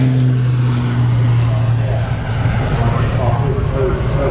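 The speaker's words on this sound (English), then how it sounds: "Very, very quiet, but powerful aircraft, the Dornier." A Dornier propeller aircraft flying at Farnborough Airshow 2018, a steady droning engine hum with a low tonal whine, continuous and moderately loud at a distance while commentators talk over it.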